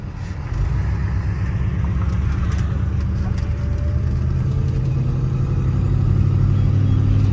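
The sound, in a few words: car engine with exhaust leak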